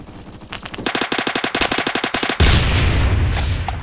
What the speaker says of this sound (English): someone has a very high-powered gun right now